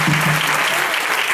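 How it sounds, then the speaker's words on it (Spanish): Dense audience applause for Antonio at a Pilares 2024 gathering in Puerto de Sagunto, Valencia, a continuous wash of many hands clapping at steady volume. "fuerte aplauso para Antonio"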